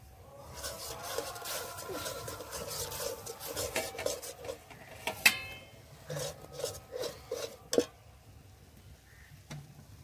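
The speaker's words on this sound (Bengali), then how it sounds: "এবার দিয়ে দেব চালের গুঁড়ো, দেব আর নাড়বো।" A spoon scrapes and stirs rice flour mixed with water and salt in a pot, making close, irregular gritty rasps and scrapes with occasional light knocks against the pot. Nobody speaks.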